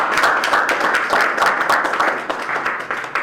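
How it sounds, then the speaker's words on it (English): An audience at a community roundtable claps hands together in a steady, dense, fairly loud burst of applause that lasts throughout with no break. "Somebody clap your hands if you want him back."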